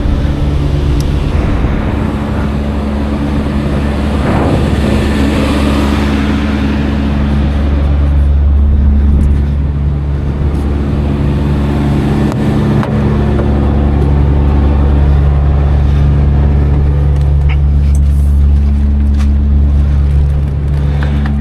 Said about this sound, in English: You give it a bit of acceleration to boost the air.